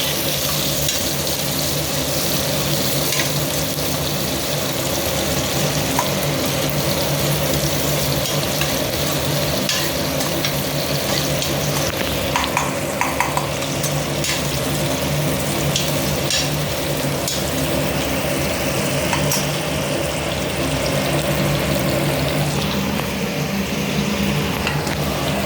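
Onions fry in a pan for chicken biryani, with a continuous close sizzle broken by scraping and clinking as they are stirred over and over.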